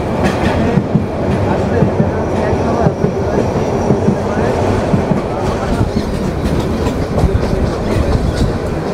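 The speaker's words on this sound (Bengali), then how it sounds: "intercity Kurigram express থ্রুপাস Tongi junction" The Intercity Kurigram Express thunders through Tongi Junction without stopping, a loud, close, continuous rumble of wheels with rhythmic clickety-clack over the rail joints and faint squeals throughout.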